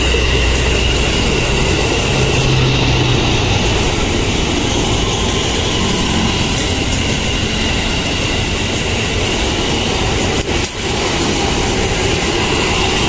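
A KRL commuter electric train, a JR 205 series unit, rolls slowly past at close range, giving a steady loud rumble with a brief sharper clatter near the end and no talking.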